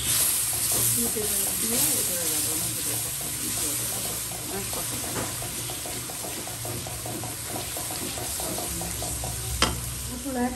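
Chicken curry masala with yogurt being stir-fried in a pan: steady sizzling with a continuous scraping stir, some splashy watery clatter and a sharp knock near the end, with faint voices underneath.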